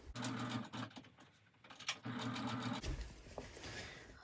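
A sewing machine stitching a fabric ruffle pocket, running in bursts of rapid whirring with brief pauses between, close and fairly quiet, ending with handling noise.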